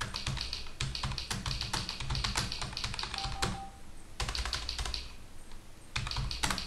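Fast typing on a computer keyboard during a typing practice session, rapid dense key clicks in steady runs with brief pauses, close and fairly quiet, no voices.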